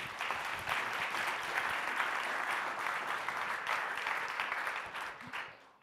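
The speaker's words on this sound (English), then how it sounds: "can we give him one more round of applause?" A lecture-hall audience applauding a speaker at a conservation event, sustained dense clapping that holds steady for several seconds and then tapers off.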